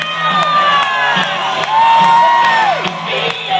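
Roller derby fans cheer and shout from the stands during a bout between the Hydro Elektras and the JawBreakers. A sustained, loud crowd roar carries whoops and high shrieks, with one long rising-and-falling yell standing out over the noise.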